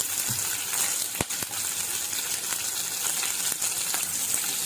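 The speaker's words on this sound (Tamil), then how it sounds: "சின்ன வெங்காயம் போட்டிருக்கேன்." Small onions and asafoetida frying in hot oil in a home kitchen, a steady close sizzle throughout with a couple of brief sharper crackles, no voices.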